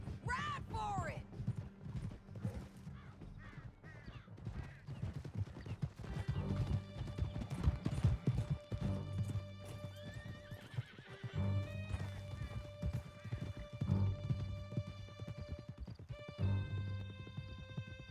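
Hooves clip-clop at a gallop through a Red Dead Redemption 2 canyon chase, with a horse whinnying near the start, all set under steady game music and occasional voices.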